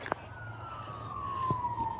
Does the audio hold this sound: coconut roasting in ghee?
no